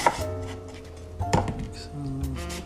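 Knife cutting an eggplant into thick slices for grilling on a cutting board, a few distinct dull thunks spaced apart, close and fairly quiet.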